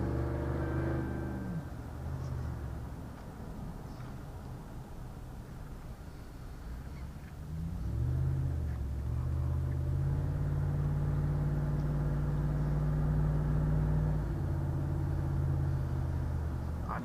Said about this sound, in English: you can really hear the engine growl whenever you accelerate on it